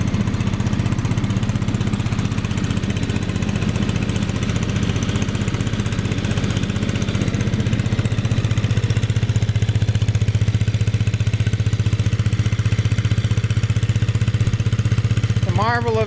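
A heavy air-cooled Lauson engine on a 1943 WW2 Army Air Corps Stewart Warner ground heater runs steadily with a deep, rhythmic throbbing drone at constant loudness throughout, nearby.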